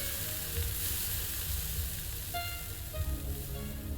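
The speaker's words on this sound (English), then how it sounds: "I apologize for going to the screen with the frying sounds." Food sizzling in a pan, heard as ambient sound in the video game Unavowed; a continuous close hiss and crackle at moderate volume with no talking.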